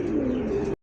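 A racer pigeon coos close by in a single steady, droning call that cuts off abruptly, loud and alone with no voices over it.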